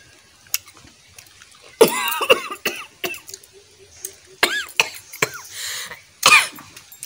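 Someone coughs repeatedly and clears their throat after eating a spicy cashew fruit mix, in several harsh bursts separated by short pauses, close and fairly loud, alongside faint clinks.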